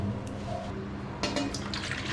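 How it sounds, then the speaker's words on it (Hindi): Water pours into a small cooking pot in a home kitchen, a faint trickle that swells into a brighter, splashing stream partway through. "इतना पानी डाला है मैंने"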